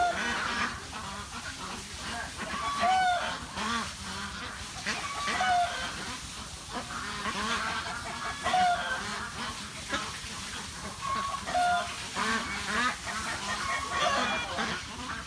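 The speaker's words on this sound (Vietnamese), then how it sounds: "Vịt nó đang đi diễu hành kìa." Ducks waddle along in a line on a rural farm in Tan Tru, Long An, giving repeated nasal quacks and clucking calls in uneven bursts at moderate distance, with faint voices and background ambience underneath.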